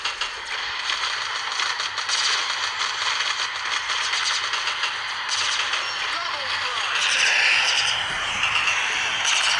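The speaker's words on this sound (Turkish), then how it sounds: "Şu an sıkıyorum" Rapid bursts of video game gunfire rattle on steadily over a dense, loud mix of game sound, with no clear talk over it.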